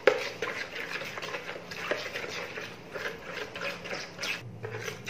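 Chicken pieces mixed by hand with green chilli paste, ginger garlic paste and dry spices give soft, wet squelching and stirring with light taps against a bowl, close and fairly quiet.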